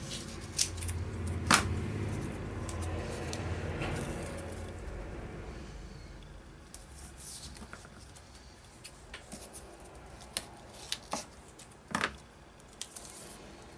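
Scissors snip double-sided tape for a vellum window journal page, with a few sharp, faint cuts and light rustling spread irregularly over several quiet seconds.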